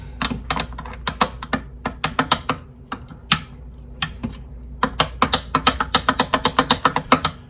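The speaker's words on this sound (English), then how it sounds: "And now we do a little more stirring." A white sauce with a teaspoon of dry mustard is stirred in a bowl, making brisk, uneven clicking taps of utensil on container, close and clear, in quick bursts with brief pauses.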